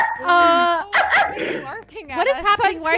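A person voices dog imitations in a Roblox voice chat, giving quick yips, barks and whimpering whines, close and loud, with another voice talking in between.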